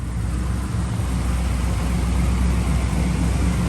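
A 6.0-litre V8 with a Holley carburetor runs steadily on a dyno, a loud continuous low engine drone with no pauses, close and unbroken throughout.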